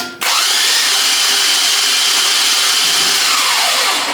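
Engine in an LS-swapped Ford Galaxie cranks over and runs, a loud, steady, broadband whir that starts abruptly and holds at constant level for several seconds with no talking.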